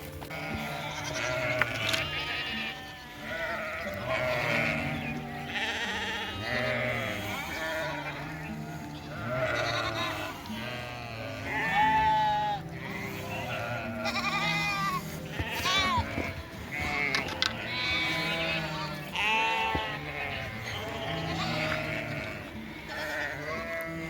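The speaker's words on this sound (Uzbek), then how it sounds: "Mana bizning qo'ylar Cho'jalning ko'prigisiga yetib keldi." A flock of sheep bleats continuously and loudly on a village path, many overlapping calls forming a dense, steady chorus with a faint voice now and then underneath.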